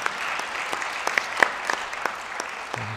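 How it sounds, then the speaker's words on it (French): Steady applause from an audience at a French economic, social and environmental council (CESE) plenary session, honouring a departing member, with scattered sharper claps over a dense, continuous patter. "on peut l'applaudir"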